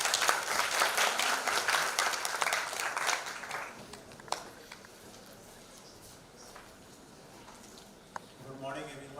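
Audience applause in a conference hall, a dense round of clapping for the first few seconds that tapers off into quiet room noise with a few stray claps, then speech begins.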